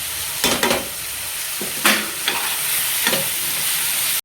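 Red chili powder, asafoetida, turmeric and caraway are tipped into hot oil for a dry black-eyed bean pod stir-fry, giving a steady close sizzle marked by a few sharp stirring scrapes, with no voices.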